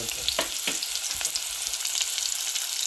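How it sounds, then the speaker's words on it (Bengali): Chopped garlic, onion and ginger fry in white oil for a koi fish and bean dish, giving a steady close sizzle with a couple of brief stirring scrapes early on and no voices. "রসুন দিন, রসুন কুচি, পেঁয়াজ সামান্য দিছি, তা আদা খান পরিমাণ"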